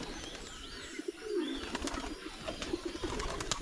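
Pigeons coo in a backyard coop, soft throaty rolling calls repeating close by, with a brief flutter of wings and scattered clicks and rustles around them, no talking.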